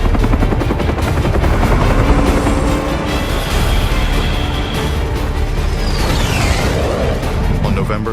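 Loud, continuous attack helicopter rotor thumping close by, a rapid rhythmic chop with engine whine, steady throughout with no speech.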